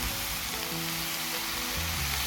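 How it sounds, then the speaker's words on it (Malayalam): Chopped vegetables sautéing in a hot pan, a dense, steady sizzle with faint stirring scrapes, close and loud throughout. "നമുക്ക് ഈ അരിഞ്ഞു വെച്ചിരിക്കുന്ന വെജിറ്റബിൾസ് എല്ലാം കൂടി ഇതിലിട്ടിട്ട് വഴറ്റി കൊടുക്കാം"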